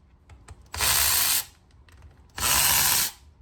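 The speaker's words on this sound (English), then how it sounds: "All right, now we're just going to pull all the side cover bolts off." Two bursts from a pneumatic or power tool spin out half-inch side cover bolts on an old Muncie 4-speed transmission. Each whirring run lasts under a second, close and loud, with quiet shop noise in between.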